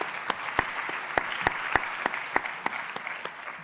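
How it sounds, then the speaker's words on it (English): An audience at a UN evaluation high-level panel event gives the panelists a round of applause, a moderate, somewhat distant clapping with distinct individual claps popping out over a steady wash. "please join me for a round of applause for the panelists"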